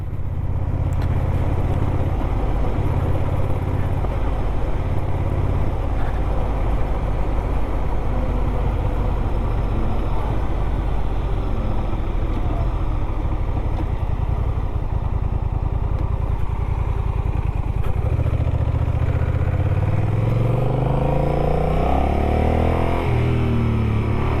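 Honda Rebel 1100 DCT motorcycle out on a road ride, a steady low engine drone mixed with road and wind rumble throughout, close and continuous, with no talking.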